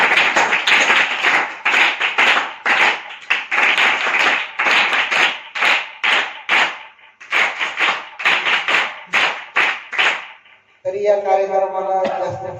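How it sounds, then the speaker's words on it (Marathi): A crowd claps to welcome a guest at a student birthday gathering, sustained applause in bursts with short gaps, loud and fairly near, giving way near the end to a brief tonal musical sound. "सर्वांनी टाळ्या वाजवून त्यांचं खूप खूप स्वागत करायचं"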